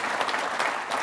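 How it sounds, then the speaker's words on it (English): Audience applause at a 2014 conference keynote, a dense wash of many hands clapping steadily and evenly through the whole short stretch, with no voices on top. "the entire Wheeler crew, I think, needs a round of applause"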